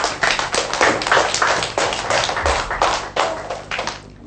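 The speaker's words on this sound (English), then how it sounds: "Class, give her a big clap." A class of schoolchildren claps together after a pupil counts aloud in a primary maths lesson, a dense burst of many hands slapping in quick irregular rhythm that carries on steadily for several seconds, close and loud.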